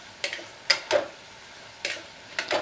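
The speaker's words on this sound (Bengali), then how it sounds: "এবার মুগ ডালটাও দিয়ে দেব, দিয়ে ভালো করে নাড়বো" Moong dal being stirred into bottle gourd in a pan, a handful of separate scraping strokes of a spatula against the pan with quiet pauses between, close and fairly soft.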